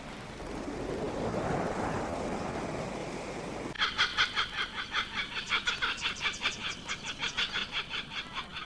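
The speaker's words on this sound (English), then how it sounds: "The first bird to call at dawn, the laughing kookaburra, is known as the bushman's alarm clock." A laughing kookaburra calls at dawn in the Queensland bush, its rapid rhythmic cackling chorus starting abruptly and carrying on loud and close, after a stretch of rushing ambient noise.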